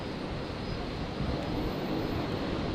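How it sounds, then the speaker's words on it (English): A Virgin airliner from Darwin touching down at Brisbane Airport, a faint, steady distant roar of jet engines and wind-like rush, continuous and unbroken, no voices. "Virgin 454, just touching down there from Darwin."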